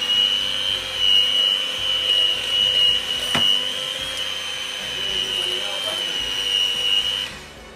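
An electric beater whirring through chocolate pudding batter, a steady high motorised whine with slight wobbles as it works the mix, running loud and close for several seconds before cutting off at the end.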